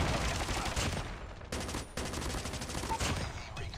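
The Chopper LMG light machine gun fires in sustained automatic bursts in Call of Duty Mobile, dense and loud with brief gaps between strings of rapid shots.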